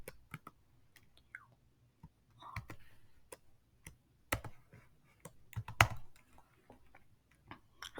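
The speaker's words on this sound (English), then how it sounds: "I'm just typing it in manually because I'm really good." Quiet, sparse keystrokes tap on a computer keyboard during a remote login over a Raspberry Pi crypto-mining setup, irregular clicks with small bursts and pauses, close and faint with no talking.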